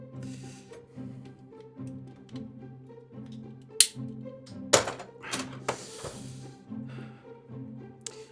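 Plastic parts of a Unique Toys O-02 Fenrir transforming robot figure are pried apart, giving a sparse run of small clicks and taps, then a few sharp snapping pops as tabbed pieces come loose, close and fairly quiet.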